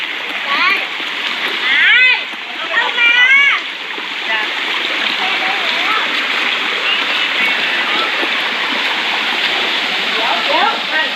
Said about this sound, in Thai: มีเด็กๆเล่นน้ำกันนะครับ